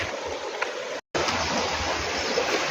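Continuous rushing of flowing water in a dirty river on a farm, steady and fairly loud, with a brief cut of silence partway through.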